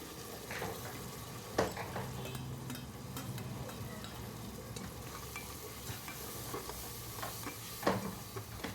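Vegetables frying in a pan for vegetable pulao, a low steady sizzle broken by repeated scraping stirs and a couple of sharper utensil knocks against the pan, no talking.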